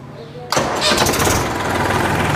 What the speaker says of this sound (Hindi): इस ट्रैक्टर को हम चालू कर इसका टर्निंग रेडिएशन चेक करेंगे और इसकी हम आरपीएम चेक करेंगे